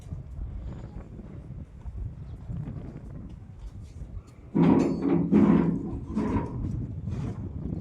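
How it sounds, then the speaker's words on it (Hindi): Gusty wind buffets the microphone outdoors near farm fields with a rough, rumbling roar that swells louder partway through and stays strong. "बहुत तेज़ हवा चल रही है।"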